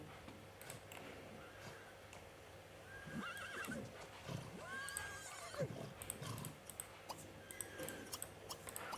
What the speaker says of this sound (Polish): Ale ładne są te konie.